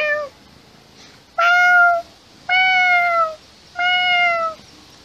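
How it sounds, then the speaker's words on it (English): A cat meows three times in loud, drawn-out calls at an even pace, with a faint short mew just before them and quiet pauses between, no other voices. "I love all my cats."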